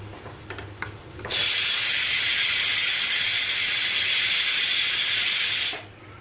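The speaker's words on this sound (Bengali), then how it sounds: "এদিকে ছোলা ডালটা সিটি পড়ছে" A pressure cooker whistles loudly while chana dal cooks on the stove, one long steady hissing blast of steam lasting several seconds after a few quieter kitchen clatters, then cutting off abruptly.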